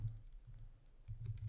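Faint, quick clicking of keys on a computer keyboard comes in irregular bursts with short pauses between them. The sound is quiet and close, with no talking.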